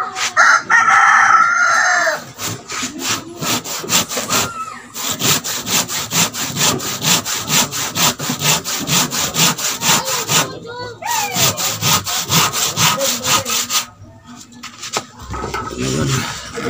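A borrowed, somewhat dull hand saw cuts wood for a small stool, its strokes rasping steadily back and forth, loud and close, with a rooster crowing in the background near the start.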